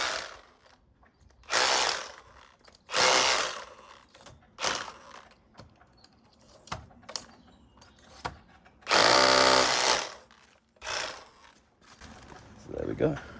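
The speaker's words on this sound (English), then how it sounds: "So I've got to drill that out now." A power drill bores out four marked points on an electric vehicle build, with several short bursts of whirring and grinding, fairly close, separated by pauses and handling noise, and one longer run near the end.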